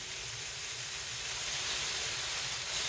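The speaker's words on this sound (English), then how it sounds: "I'm going to throw a piece of butter on here" Butter sizzles on a hot griddle at a gas station grill, a loud, steady, broadband hiss that continues evenly without pauses or voices.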